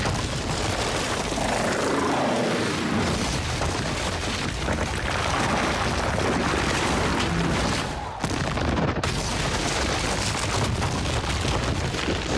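A helicopter in the Call of Duty: Modern Warfare 3 video game, a loud continuous rotor roar dense with rumbling battle noise and booms, holding steady throughout with a brief dip partway.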